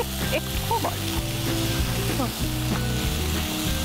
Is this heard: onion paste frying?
yes